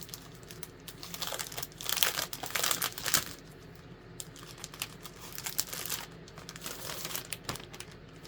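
Pages of a 12 by 12 inch double-sided craft paper pad crinkle and rustle in irregular bursts as sheets are handled and flipped, close and fairly quiet.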